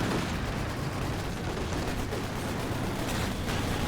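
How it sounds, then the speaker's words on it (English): An aircraft strafing run in a multiplayer war game match, a dense, continuous roar of rapid gunfire and explosions that fills the whole stretch at steady loudness. "It's a strafe."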